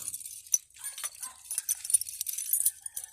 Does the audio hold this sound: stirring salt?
no